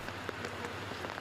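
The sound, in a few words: heavy rain falling during flood evacuation in Makassar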